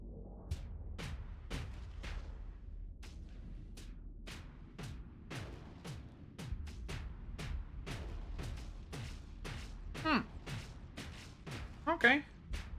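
Spaceship cannons firing in the Starsector video game: a rapid series of sharp thumping shots, some in quick bursts, over a low engine hum, with brief electronic warbles near the end.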